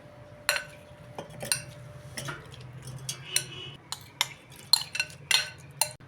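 Watermelon pieces go into a mixer jar in a home kitchen: scattered light clinks, taps and thuds against the jar, close and fairly quiet, with irregular gaps between them.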